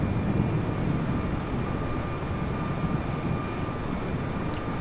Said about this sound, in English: And we'll take off down the runway.